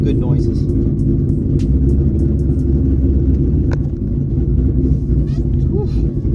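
Chevrolet Camaro engine rumbling loudly and steadily from inside the cabin during a drive, a deep continuous drone with brief faint speech over it.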